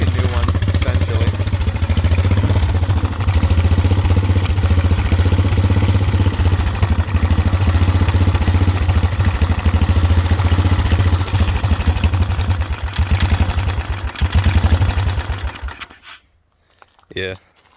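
A Whizzer motorized bicycle engine with a damaged exhaust runs loud and steady for about sixteen seconds, a low rough drone with clattery texture, beginning to rev slightly as it heats up, then cutting out abruptly with a brief noise at the end.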